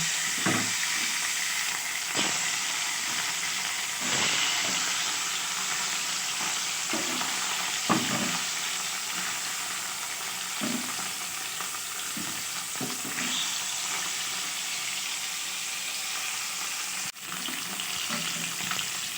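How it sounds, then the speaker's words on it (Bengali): Katla fish frying in hot oil in a wok, a steady loud sizzle and crackle running throughout, with occasional taps and scrapes as the pieces are adjusted, close by with no talking. "আমি এবার সবার প্রথমে মাছটাকে ভেজে নেব"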